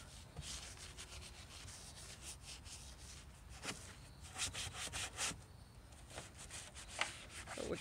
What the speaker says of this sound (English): I'll have to take my hand, microfiber, and get my microfiber all cruddied up.